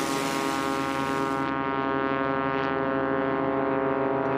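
A Cessna 180 STOL plane with an 0470 engine running 520 cylinders drones steadily at a drag race, its loud, continuous harmonic engine hum holding even throughout without any voices.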